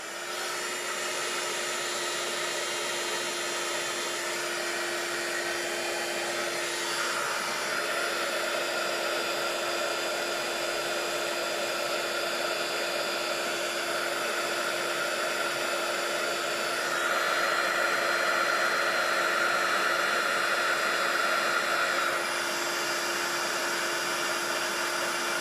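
Hair dryer blasting to dry painted and inked artwork, a loud, steady whooshing roar with a constant motor whine running close up for the whole stretch, shifting slightly in pitch as it moves.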